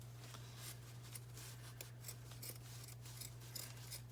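Ordinary, non-fabric scissors cut fabric for pockets in a series of quiet, close snips at an uneven pace over a low steady hum.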